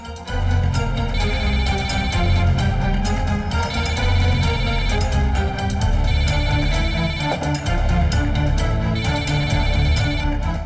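A mobile phone ringtone plays steadily and loudly, a repeating electronic melody that keeps going without pause, no voices over it.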